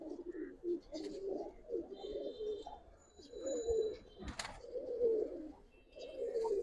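A single red male pigeon coos in repeated low, throaty phrases close by, with brief pauses between rounds and faint chirps from other birds in the background.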